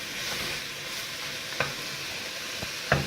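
Onion sizzles steadily in olive oil in a pan, a soft, even frying hiss broken by a few sharp clinks and scrapes as it is stirred. It is close and moderately quiet, with no talking.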